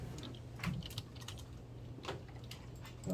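Soft, rapid typing on a computer keyboard, with clusters of light key clicks at an uneven pace over a quiet background hum.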